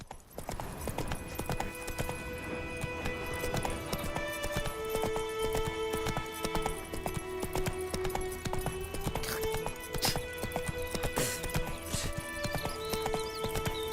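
Roach, a horse in The Witcher 3, gallops with a steady, close clip-clop of hooves throughout, broken by a whinny or two over faint ambient game music.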